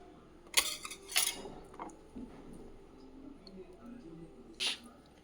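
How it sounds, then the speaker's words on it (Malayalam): Jackfruit seeds are crushed for peeling with a few sharp cracking knocks and hard scrapes spaced out, close by, amid quieter rustling and small kitchen clatter. "ഇതെല്ലാം ഞാൻ ചതച്ച് ചതച്ച് കഴിയുമ്പോൾ എളുപ്പമാണ് തൊലി പോവാൻ"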